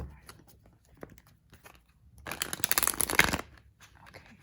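Quiet scattered taps and rustles, then a brief rapid riffle of tarot cards being shuffled close by, lasting about a second before fading back to soft handling.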